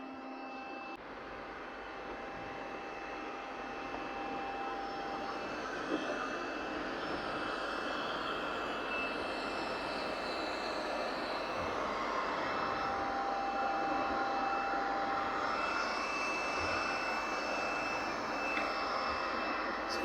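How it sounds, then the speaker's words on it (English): A Lubluelu SL60 robot vacuum hums steadily as it hoovers and mops under a kitchen unit, a continuous whirring motor drone with faint tonal whine, moderately quiet and unbroken, with no talking. "it goes underneath our unit here, hoovers up the mess, as well as mopping"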